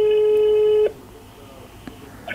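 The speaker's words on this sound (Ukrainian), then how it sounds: "Так, телефоную менеджеру" Telephone ringback tone on an outgoing call to a car dealership manager: one steady electronic tone lasting under a second, then a quiet line with faint clicks.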